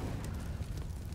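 A grenade goes off in a competitive esports shooter match at the ESL India Premiership, a dense, sustained low rumbling blast heard on its own without talk.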